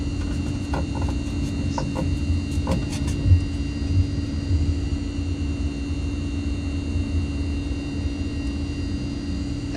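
A Mitsubishi MU-2 turboprop taxies in Microsoft Flight Simulator with a steady, loud engine drone and whine holding constant, plus a few faint clicks and taps from the cockpit early on.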